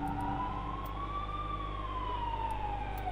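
A video game police car siren from Mass Effect wails, rising and falling slowly in pitch over a steady low engine drone, loud and continuous throughout.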